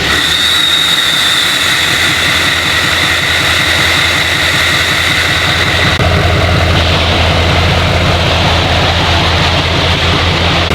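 Chevrolet Silverado pickup fitted with a K&N cold air intake, turbocharged: a loud, continuous engine drone with a high, steady turbo whine above it. The tone shifts about halfway through, and no one speaks.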